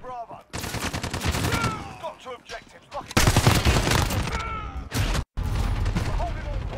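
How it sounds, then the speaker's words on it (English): Shotgun blasts in a video game boom in loud, close bursts, mixed with other gunfire and excited shouting voices. "It's because he got a shotgun!"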